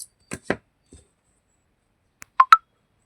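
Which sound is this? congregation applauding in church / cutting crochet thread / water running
cutting crochet thread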